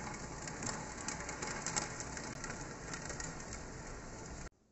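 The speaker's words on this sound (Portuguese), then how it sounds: "Olha, não demorou muito pra cair chuva, não. Tá lavando o chão." Steady rain pours down and washes over the ground outdoors, a dense continuous hiss with occasional spatters and no voices, cutting off abruptly near the end.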